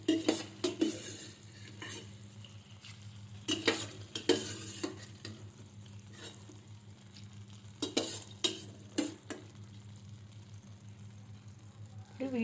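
Boiled broad beans being stirred into tomato masala in a pan, repeated scraping and clinking strokes of a spoon in bursts over a soft low sizzle and steady background hum, close by with no talk.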